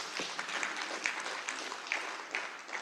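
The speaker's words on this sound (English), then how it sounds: "We need to give him a big round of applause for that." A summit audience claps in a faint, distant round of applause, soft and continuous with a few sharper individual claps standing out.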